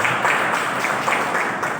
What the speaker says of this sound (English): Give a big round of applause for SK Mandal sir.